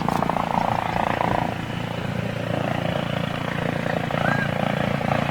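A large airliner, an Airbus A330 or Boeing Dreamliner, flies past at the Toulouse airshow with a loud, steady jet-engine roar that stays close throughout, while spectators talk over it.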